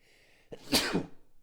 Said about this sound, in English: Excuse me, I'm sneezing a lot today.